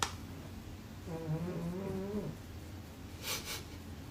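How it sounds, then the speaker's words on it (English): A cat makes a wavering, breathy purr-like vocalization resembling snoring, heard once for about a second, fairly close in a quiet room, followed by a couple of brief hissy noises. "Snoring."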